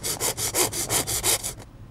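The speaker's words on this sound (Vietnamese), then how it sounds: "Đây, mình cưa thử chỗ này nè." Hand saw cutting through material for a tarantula burrow hide, about nine quick rhythmic rasping back-and-forth strokes up close, then stopping.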